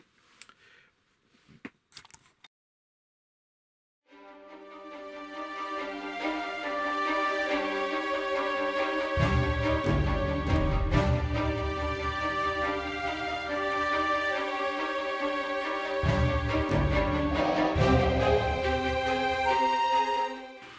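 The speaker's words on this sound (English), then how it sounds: "There's a 3D printer running." A 3D printer runs nearby with a sustained whirring hum and stepper-motor tones, joined by louder bursts of movement noise, after a few faint clicks and a short silence at the start.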